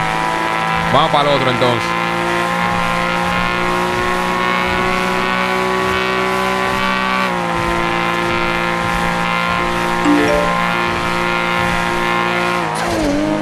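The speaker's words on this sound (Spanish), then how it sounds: "ey, pero este carro dobla bien, en verdad" A car in a video game drives and turns with a steady engine drone and tires squealing through the corners, close and continuous, while someone speaks Spanish over it.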